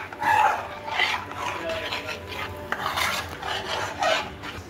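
Ghavan batter of flour, water and salt being stirred in a bowl, giving a steady scraping, swishing rhythm of repeated strokes up close with faint clinks of the utensil against the bowl.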